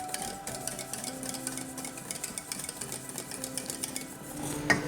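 Vanilla pudding mixture with vanilla essence being stirred in a pot, with soft, quiet scraping and light metal clinks of a utensil in a steady rhythm, close and faint, and a sharper clink near the end.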